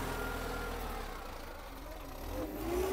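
A Guard World WD 754 tractor pulling a 13-tine cultivator in first high gear gives a steady, low, labouring engine rumble that swells near the end as it struggles close to stalling. Faint, muffled voices sit under the engine.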